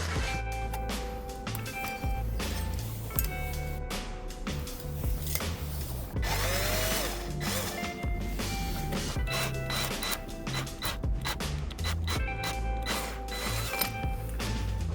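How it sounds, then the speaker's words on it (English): A power drill bores into a wooden table leg from underneath, with a steady whirring motor and grinding bite, punctuated by brief pauses and knocks of wood handling. "I actually need to drill it from the bottom because the string is going to connect down to this one here."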